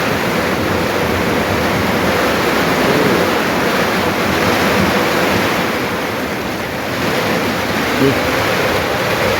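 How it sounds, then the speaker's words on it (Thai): Heavy rain pours down in still, windless weather, a loud, dense and unbroken roar close by. A voice is briefly heard under it. "ฝนตกโอ้ดีแต่ว่าบ่มีลมนี่บ่มีลม"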